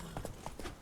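Horse hooves clip-clop in The Witcher 3, a few quick, close hoofbeats heard clearly in a brief burst.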